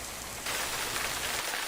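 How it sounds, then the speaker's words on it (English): Heavy rain falling, a dense, steady hiss that swells louder after the first moment and continues evenly without any voices. "It's tipping down."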